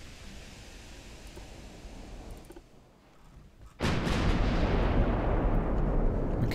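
Heavy battleship guns of the German ship Mackensen firing in the naval video game Ultimate Admiral: Dreadnoughts, a sudden loud booming blast swelling into a sustained roaring rumble after a quieter stretch of background noise.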